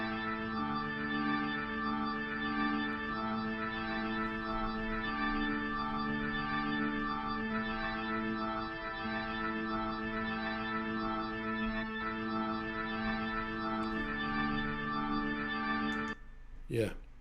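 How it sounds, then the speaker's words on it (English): Sustained Hammond B3 organ chords with a rich, buzzy drawbar tone, shifting harmonies played steadily and fairly loud, ending with a brief swell. "It's a full-on Hammond B3."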